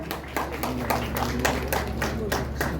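An audience at a family event program claps in a lively burst of applause with sharp individual claps standing out, over a steady low hum and some voices in the background.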